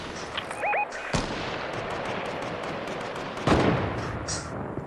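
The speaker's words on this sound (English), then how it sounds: "Gang, I'm getting sniped at by another team." Sniper gunfire in the Fortnite video game, with sharp cracks near 1.1 and 3.5 seconds over steady game noise.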